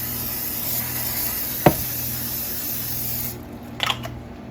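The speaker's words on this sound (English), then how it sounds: "I'm just going to go ahead and hit that with some cooking spray." A steady hiss of cooking spray onto a large skillet for about three seconds, then it cuts off, followed by a faint clatter.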